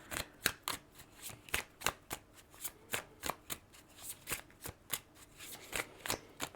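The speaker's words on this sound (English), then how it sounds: "Why am I still shuffling that deck?" A deck of oracle cards is shuffled by hand, crisp papery riffles and flicks repeating in a steady, quick rhythm, close and fairly quiet with no talking.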